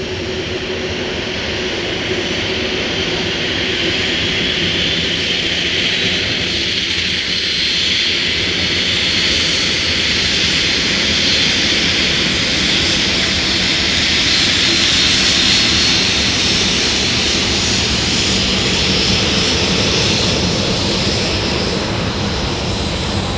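A Sun Country Airlines jet taxiing past at Minneapolis–Saint Paul airport, a loud steady whine and rumble of engines that swells slightly as it nears, continuous with no talking.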